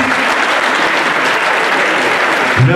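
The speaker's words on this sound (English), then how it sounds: "vos applaudissements" Applause from guests at a 50th birthday party at the Marriott Roissy CDG, as a couple takes the dance floor: steady, dense clapping throughout, with a brief thump near the end.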